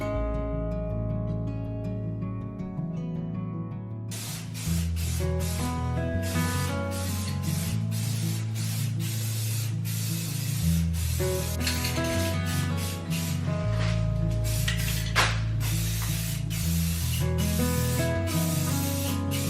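High heat spray primer hisses in a steady, continuous stream as it is sprayed onto a window frame, close and even, with a tonal background running underneath throughout.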